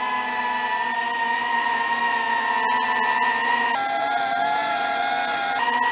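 A DJI Avata 2 FPV drone fitted with an upgrade that lowers its tone, giving a steady, loud, close propeller whine with layered tonal harmonics that shift pitch a few times as it flies.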